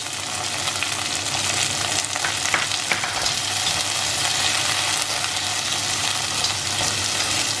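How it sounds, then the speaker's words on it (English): Frozen green peas, cubed carrot and beans sauté in ghee with a loud, dense, steady sizzle, heard close up. A few faint scrapes of stirring come through, and nobody talks. "Since this is sauteed in ghee or clarified butter, there is a nice aroma filling the kitchen."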